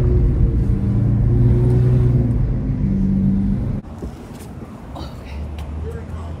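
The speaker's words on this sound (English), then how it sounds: "put some fuel in it and keep warming it up. It just needs a bit longer of a drive." A modified car's engine warming up on a drive gives a steady loud low rumble, which drops to a quieter idle-like hum partway through, with faint voices nearby.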